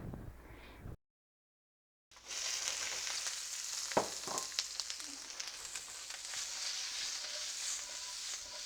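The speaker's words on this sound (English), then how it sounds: "we're gonna start cooking off our garlic for our aromatics and also our chopped" Garlic and chopped onion fry in a hot wok, a steady broadband sizzle after a brief silent gap, with a couple of sharp clinks or stirring knocks partway through.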